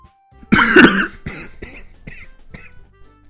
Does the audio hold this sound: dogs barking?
no